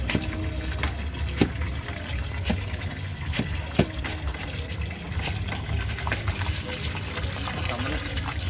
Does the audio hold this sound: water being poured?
yes